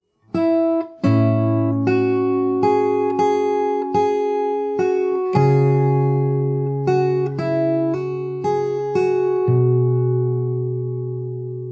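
A fingerpicked acoustic guitar plays a passage from a song, steady plucked melody notes over ringing bass tones and shifting chords, close and clean, continuous for several bars with no speech.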